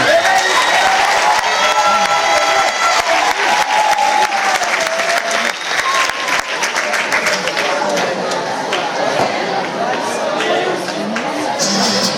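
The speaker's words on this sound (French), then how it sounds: "On les applaudit." A festival crowd applauds a Madison dance workshop group with loud, sustained clapping and some cheering, voices mingling underneath as the ovation gradually eases off.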